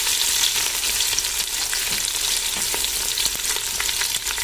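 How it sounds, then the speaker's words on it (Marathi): Two large lengthwise-sliced onions frying in oil with cinnamon for chicken dum biryani, a steady bright sizzle with occasional stirring scrapes, close and continuous. "आपल्याला छान असं हे तेलामध्ये भाजून घ्यायचं आहे."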